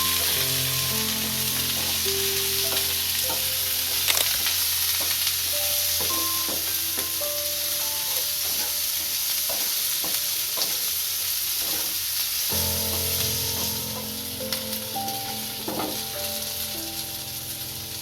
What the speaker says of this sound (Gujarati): ભીંડો આપણો સારી રીતનો તળી ગયો છે,